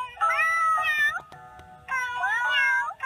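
Taylor Swift's cat gives two long, drawn-out meows close to the microphone, separated by a short pause with no speech.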